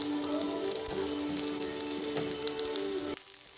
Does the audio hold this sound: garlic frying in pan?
yes